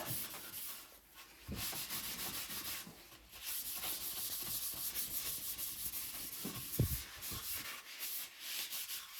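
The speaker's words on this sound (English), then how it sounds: "just wipe off any excess" A cloth or paper towel rubs over a wooden foot stool to wipe away excess finish, making soft, faint scrubbing strokes in an uneven rhythm close by.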